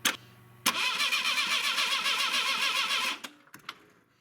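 Clark forklift engine cranking steadily for about two and a half seconds on the starter, a loud continuous churning drone with rhythmic pulses, preceded and followed by sharp clicks.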